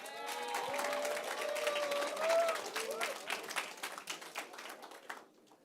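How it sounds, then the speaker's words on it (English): Students at an end-of-year school assembly give a round of applause mixed with cheers and raised voices, swelling and then thinning into scattered claps before fading out. "let's give a round of applause."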